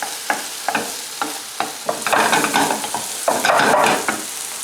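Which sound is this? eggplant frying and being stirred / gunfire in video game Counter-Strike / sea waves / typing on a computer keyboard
eggplant frying and being stirred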